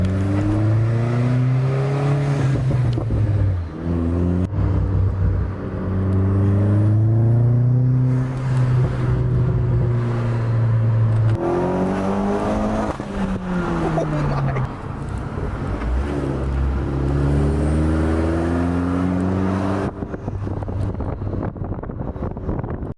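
A car fitted with a newly installed water temperature gauge drives along, its engine note rising and falling through gear changes, steady and close with wind noise throughout.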